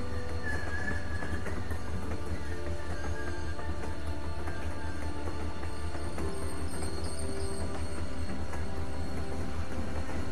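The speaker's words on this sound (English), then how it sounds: "All of a sudden, they know to operate the train." Train running in The Walking Dead video game, a low steady rumble with clattering and metallic tones layered on top, continuous and moderately loud throughout.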